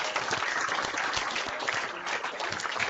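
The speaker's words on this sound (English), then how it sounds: "join me in saying thank you and give a warm round of applause to Pro Football Hall of Famer, Mr. Jerry." An audience at a Pro Football Hall of Fame event gives a warm round of applause for Hall of Famer Jerry Rice, steady, dense clapping from a crowd, moderately faint and heard alone.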